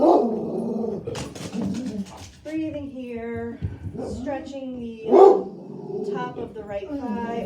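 A dog barks at a passing UPS truck, with several sharp barks mixed in under a woman's calm, continuous talking.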